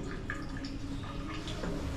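Steady hiss of running water, like a shower spraying, continuous and fairly close with faint dripping textures throughout.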